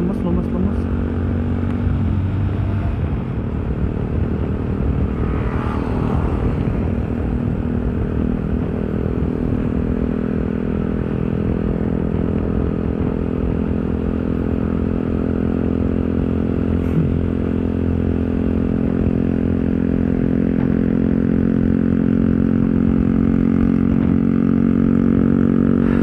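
A loud, steady engine roar runs continuously, with low harmonic drone and occasional clatter, like motorcycles revving nearby.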